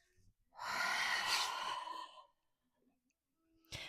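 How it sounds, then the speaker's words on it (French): A long, audible exhale during an intense vinyasa yoga session, a breathy sigh lasting about a second and a half, close and clear, followed by quiet and a faint breath at the end. "Et expire."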